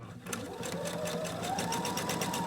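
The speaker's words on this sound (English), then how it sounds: "going to sew to the corner, take out my needle." A sewing machine runs steadily, stitching along the edge of a cloth napkin with the needle-down setting on, giving a continuous close whirr with a rapid repeating stitch rhythm.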